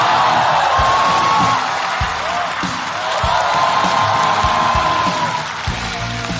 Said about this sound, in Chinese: 让我们掌声有请五大综艺天王陈明。